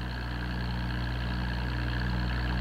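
A tractor engine drones steadily while pulling a load-testing rig, a continuous, even mechanical hum with a low rumble and no breaks across the clip.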